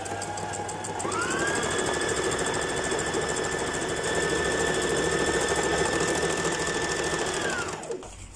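A Brother GS2700 sewing machine runs steadily for about seven seconds stitching special stitch number 15, a triple-line stitch, with a constant motor whine and rapid needle clatter that winds up and stops cleanly.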